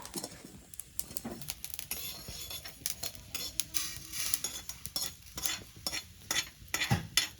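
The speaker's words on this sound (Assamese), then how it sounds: "তাৰপিছত অকণমান দেৰিকৈ ভাজিব লাগিব" Local chicken meat fries in a pan while being stirred, a quiet sizzle broken by frequent sharp clinks and scrapes of a utensil against the metal, growing busier toward the end.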